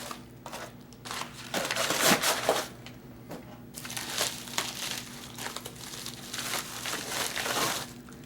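Stiff plastic and card packaging of a Spyderco Manix 2 XL knife crinkles and crunches as it is unwrapped up close, in irregular bursts with louder rustling around the middle and end.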